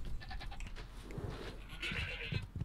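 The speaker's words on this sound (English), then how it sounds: "Do you know the black goat?" A goat in Resident Evil Village bleats loudly and close in wavering cries over low rumbling game ambience, with no talking.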